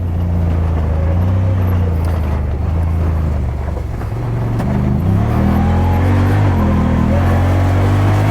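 A 2020 Honda Talon 1000X4 off-road side-by-side being driven: a continuous, loud engine drone that rises and falls in pitch, with wind rushing over the microphone throughout.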